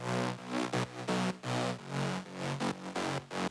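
A warm detuned saw synth patch with seven unison voices, built in FL Studio, plays short rhythmic chord stabs in a choppy pattern, soft and low, alone without speech.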